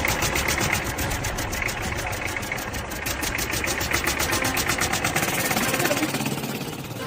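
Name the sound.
motorcycle engine running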